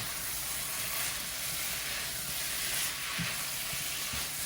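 Whole tomato dropped into a hot pan while cooking liver, giving a steady broadband sizzle and fry hiss that holds throughout, with a few soft low thumps near the end.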